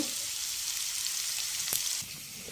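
Onions frying in a pan with green chillies for puliyogare, a steady close sizzle throughout with one sharp clatter near the end before the sizzle eases slightly.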